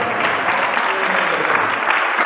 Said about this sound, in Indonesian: Ya boleh tepuk tangan sekali lagi.